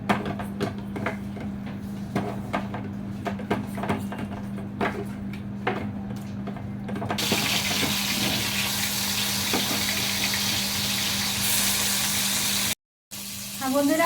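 Fish frying on a hot tawa griddle, a steady broad sizzle that swells louder partway through, with kitchen clatter and a few voices talking over it.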